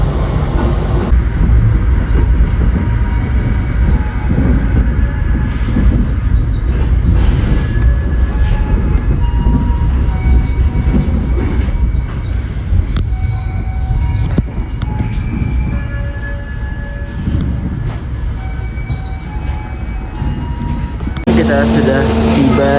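The Wijayakusuma Economy Premium passenger train rolls into a station in Java, heard from inside as a loud, steady rumble and clatter with faint wheel squeals, under talk.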